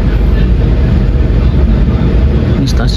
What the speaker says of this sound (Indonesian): kembali diberangkatkan dari jalur 2 stasiun Kebumen kereta api Jayakarta